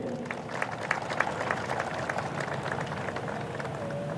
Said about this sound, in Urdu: ان سب کے لیے تالیاں آپ کی ضرور ہونی چاہیے۔